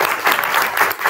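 Audience applause at a university undergraduate research pitch competition, a brief burst of steady clapping from a room of people with no voices over it.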